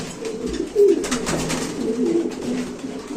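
White king pigeons at a pigeon market coo in low, repeated throaty calls close by. The calls run continuously over a busy background.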